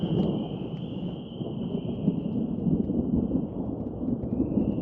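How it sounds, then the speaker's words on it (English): Deep, continuous rumbling thunder from a lightning storm rolls loudly overhead throughout, with a steady high hiss like rain or insects above it, at a campsite. "I don't want to be out here in a lightning storm."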